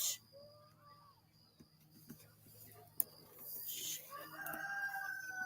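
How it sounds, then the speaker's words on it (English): A rooster crows in Llano, Texas during a solar eclipse: one drawn-out call, moderately distant, over a quiet outdoor backdrop, followed by scattered bird chirps and light rustling. "Fucking rooster."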